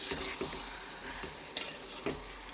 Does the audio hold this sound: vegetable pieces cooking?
yes